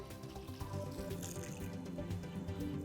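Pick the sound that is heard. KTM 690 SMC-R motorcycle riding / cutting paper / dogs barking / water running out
water running out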